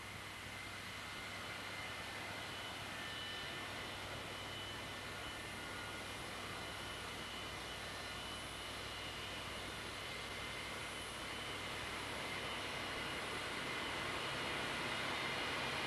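Jet engines of an XB-70 Valkyrie prototype during taxi runs on the runway at Palmdale, a steady, loud broadband roar with a whining hiss on top that holds evenly throughout with no voices.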